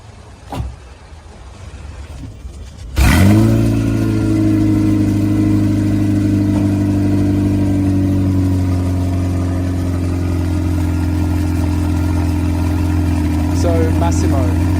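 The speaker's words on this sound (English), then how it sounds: "let you enjoy some of the sound that the Ferrari V8 clearly offers to everyone" A Ferrari 348's V8 fires up after a few seconds of quiet handling noises. It catches with a loud burst, then settles into a deep, steady, close idle that holds to the end with only slight flutters.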